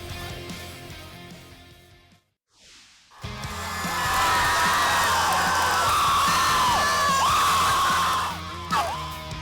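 A high school football student section at Boot Hill roars and yells after a play, a sustained loud crowd cheer that swells after a brief lull and holds steady, with shouts piercing through.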